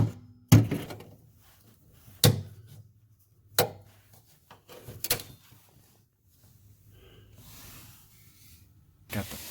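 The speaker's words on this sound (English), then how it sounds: "just gonna grab a little hammer, knock that piece out, and then smooth out the edges." A small hammer knocks a piece out during a Formula Drift Pro 2 RX7 rotary build: five or so sharp, separate knocks spaced a second or two apart, with quiet pauses and faint background noise between strikes.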